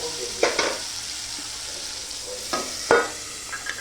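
Potatoes and green peas cook in a masala in a pan, with a soft steady sizzle broken by a few sharp scrapes and clinks of a spoon stirring against the pan.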